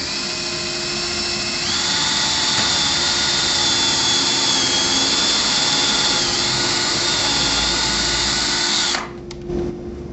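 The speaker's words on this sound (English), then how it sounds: "First we'll need to pre-drill and countersink." A power drill pre-drills and countersinks a hole for a bugle head screw, a loud steady whine running for about nine seconds before cutting off, followed by a brief clatter.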